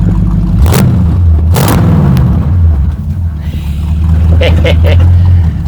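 A loud, rumbling engine of a 1972 Dodge Crew Cab pickup truck drones steadily up close while driving, with a couple of sharp bumps and clunks standing out early on.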